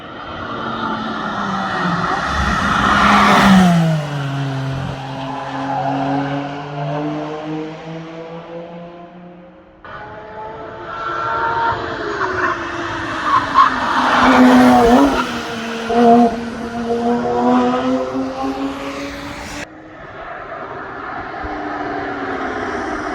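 Porsche 992 GT3 RS prototype racing past at the Nürburgring, engine note rising and falling in pitch as it approaches and recedes, loud and close, with a second pass following and a cut at the end.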